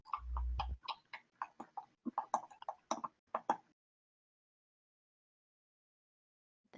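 A clicking sound effect at a lower pitch plays during a Dungeons & Dragons session, a rapid close run of dry clicks with a thud at the start, then it stops abruptly into silence.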